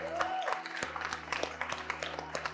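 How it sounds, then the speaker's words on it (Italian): Scattered applause from a crowd at the Fittest Freakest Milan Clash fitness competition event, uneven claps mixed with chatter and cheers over a steady electronic hum. "One big round of applause as well to the judges of the competition."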